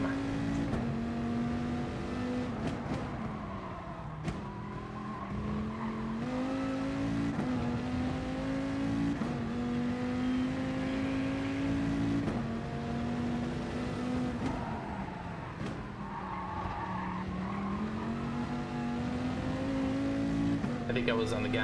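Race car engines in a Bathurst racing video game, a continuous loud drone that rises and falls in pitch through gear changes, with talking over it throughout.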